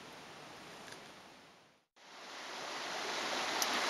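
Creek water runs steadily near a bridge, a soft, even rush with no voices; the sound briefly cuts out partway through and then returns slightly louder.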